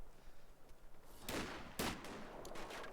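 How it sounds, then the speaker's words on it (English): Grenade blasts and gunfire in the strategy game Company of Heroes 2, with two sharp bursts a half-second apart over a constant background of distant battle noise. "We've got a grenade in. Another one."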